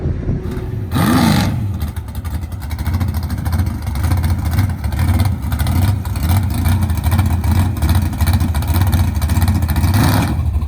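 Dodge Demon drag car engine at a drag strip, a steady loud mechanical drone and revving lasting throughout, with a sharp rising rev near the start, heard outdoors with no talking.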